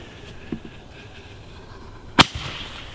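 A fireworks mortar bursts once with a sharp, loud crack after a faint earlier pop, over a quiet outdoor background on the Fourth of July.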